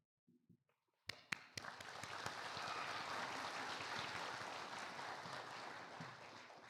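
After a short pause, a graduation ceremony audience breaks into applause following the reading of graduates' names. A few sharp claps lead into broad, sustained clapping from a large crowd.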